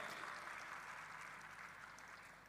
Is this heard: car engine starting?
no